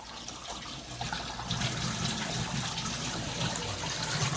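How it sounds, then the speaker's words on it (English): Water drains steadily from a barrel aquaponics system during its drain cycle, a continuous close gurgling rush that holds at an even level throughout, with no voices. "The drain cycle is a little fast right now, I'm noticing"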